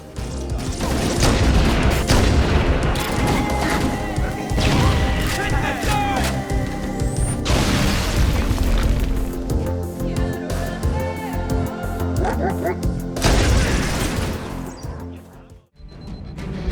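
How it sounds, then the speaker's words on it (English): Gunfire and loud explosions from the Halo Combat Evolved Anniversary shooter game, with dense bursts and heavy booms layered over music and a talking voice, near and intense, fading to a short quiet gap near the end. "Firing your weapon feels powerful and explosions are loud, just the way they should be."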